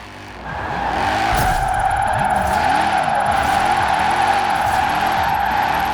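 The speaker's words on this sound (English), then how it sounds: "Sounds mean. Sounds like a V8." A 2002 BMW M3 GTR V8 engine in Forza Horizon 4 drifting, loud steady engine drone with wavering revs and constant tire squeal running throughout, starting slightly quieter then holding full volume.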